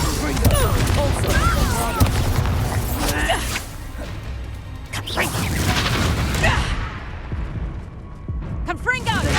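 Spell blasts from a Harry Potter video game, including Confringo, go off as repeated booms, whooshes and crashes under a player's excited voice shouting commands.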